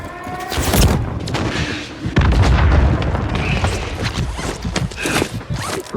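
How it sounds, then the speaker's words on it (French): Video game explosions in Call of Duty: Modern Warfare 3, a loud booming blast early on followed by a second heavy rumbling burst and scattered crackling impacts, dense and continuous with no talk. "L'explosion les a alertés"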